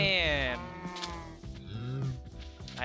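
Cows moo in the Minecraft video game, with long, loud, drawn-out bovine calls up close, one after another, and no talk over them.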